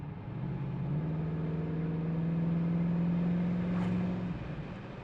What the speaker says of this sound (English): the exhaust has a nice throaty sound to it, a deep little rumble